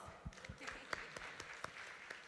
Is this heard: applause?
yes